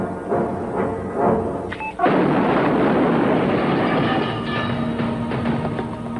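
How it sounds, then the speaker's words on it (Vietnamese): A deep, heavy blast erupts after a couple of low thuds, followed by a long rumbling, crackling decay. "Có tiếng nổ."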